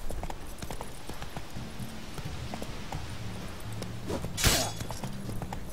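A horse gallops in The Witcher 3: Wild Hunt, with rapid, rhythmic hoofbeats running throughout and a sharp, loud crash near the end.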